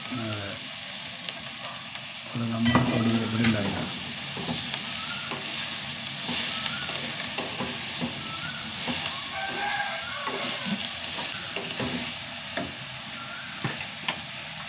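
Fresh spinach stirred and sautéed with chili powder in a hot pan, a steady soft sizzle with scraping stir sounds throughout, fairly close and moderate in level.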